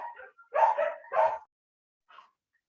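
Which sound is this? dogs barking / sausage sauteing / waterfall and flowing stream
dogs barking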